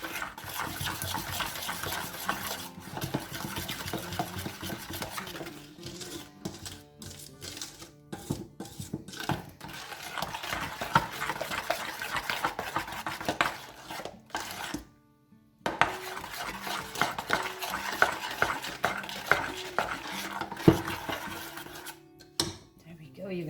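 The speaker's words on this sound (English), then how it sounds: "Be careful when you're stirring so you don't get too much of these" Plaster mix for a candle vessel stirred in a container, with repeated scraping and clinking strokes at a moderate, uneven rhythm, close and fairly quiet, and a couple of brief pauses.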